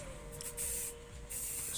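Spray paint hissing onto a Honda Unicorn 150 shock absorber box, short bursts of aerosol spray starting and stopping in a quick on-off pattern, close and fairly quiet.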